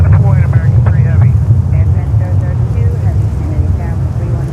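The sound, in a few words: airplane engine at JFK airport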